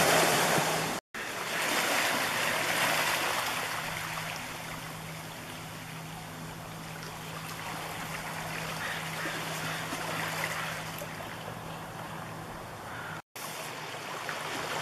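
Ocean waves wash steadily at the mouth of the Indian River estuary near Sitka at high tide, a continuous broad surf roar with wind noise buffeting the microphone throughout.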